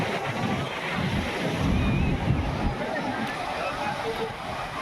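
Sea waves wash onto a crowded beach in steady, broad surf noise, with wind buffeting the microphone and a faint hum of distant crowd voices underneath.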